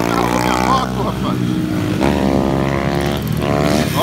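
Motorcycle engine revving hard in bursts, a loud close whining drone that climbs and drops repeatedly, with wind noise and a voice briefly audible.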